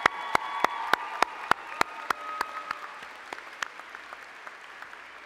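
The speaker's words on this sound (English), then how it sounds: "if you could join me in a quick round of applause for our faculty" A small audience at a Camosun College School of Health & Human Services convocation gives the faculty a brief round of applause, with sharp distinct claps over a thin crowd patter that fades away after a few seconds.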